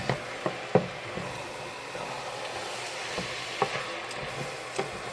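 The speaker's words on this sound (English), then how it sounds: "to deglaze the bottom of the pan" Spicy sausage in a pan deglazed with white wine, a steady low sizzle running throughout with occasional sharp scraping clicks of a utensil against the pan bottom.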